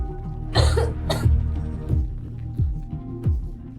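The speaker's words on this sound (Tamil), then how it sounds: "அந்த பெண்ணுக்கு குளிரால் இருமல் வர ஆரம்பித்தது" A woman coughs in the cold, giving a few sharp, close coughs in quick succession followed by softer throat sounds over a low background hum.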